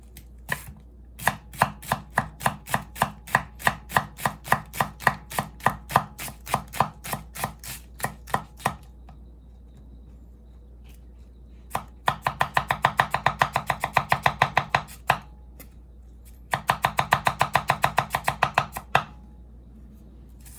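A Tojiro Shirogami carbon steel santoku, 165 mm, chops a shallot on a board in rapid, evenly spaced knife strikes, then pauses, followed by two more fast bursts of chopping, close and crisp with no talking.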